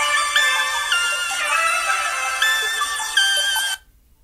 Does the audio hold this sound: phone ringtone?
yes